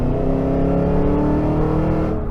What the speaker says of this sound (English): It's still loud as hell when you put the pedal down all the way